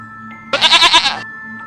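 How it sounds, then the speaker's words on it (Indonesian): A single goat bleat, loud and close, a wavering cry lasting about two-thirds of a second over a quiet background with a faint steady hum. "mereka pun sering mendengar suara kambing pada tengah malam sampai menjelang subuh"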